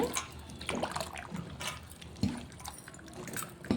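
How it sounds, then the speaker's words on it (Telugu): Water pours into a bowl of cut thorny brinjals sprinkled with salt for a brinjal tamarind curry, a soft, steady splashing and trickling with a few brief drips, close by and fairly quiet. "ఇలా వాటర్ పోయాలి"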